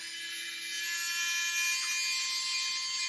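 The motorized spinning screws of a BattleBots Arena Max toy arena whir with a steady, high mechanical buzz and faint tonal whine, continuous and fairly quiet.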